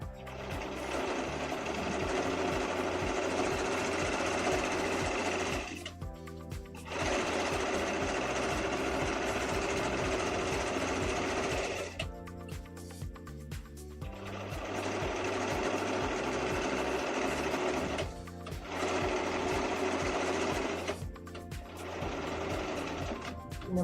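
A sewing machine fitted with a cording foot gathers fabric along a 5/8 inch seam. Its steady motor hum and needle chatter run in long, close stretches, broken by several short pauses, with no talk.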